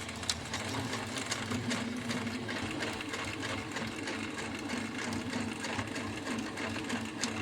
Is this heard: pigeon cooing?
no